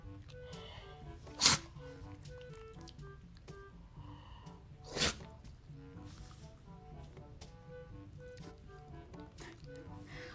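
A Shih Tzu dog sneezes twice, two sharp bursts a few seconds apart, heard close over a faint steady background with some quiet talking.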